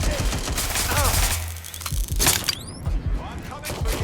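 Gunfire in the Watch Dogs: Legion video game, a burst of rapid shots and sharp mechanical clatter ringing out among game noise, with voices speaking around it.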